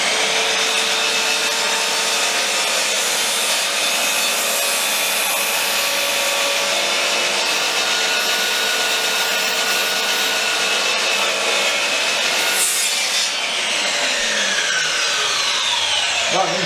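A power saw cuts through wooden decking boards for a trough planter, one loud, continuous, close whine and rasp running unbroken throughout, shifting slightly in pitch near the end.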